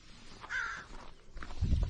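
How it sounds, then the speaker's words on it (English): A single crow gives one clear, harsh caw at moderate distance outdoors, followed by a fainter short call and then louder low rustling or scuffing close by. "There's a crow friend right there."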